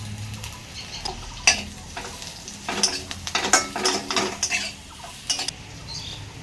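Ground spices, coriander, cumin and chilli powder, being sautéed with a little water in a pan, with a low sizzle under repeated metallic spoon scrapes and clinks against the pan, close and irregular, with no talk.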